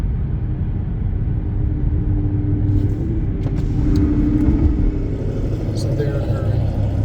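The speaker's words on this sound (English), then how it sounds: "Like this black car, see how fast you're going?" A black car speeds past on a road, a loud engine rumble rising and swelling as it passes close by, then fading, with someone talking over it.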